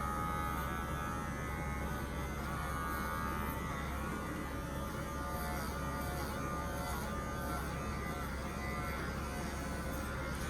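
An electric clipper trims a Yorkie's fur, giving a steady, close buzzing hum that runs unbroken throughout with no talking.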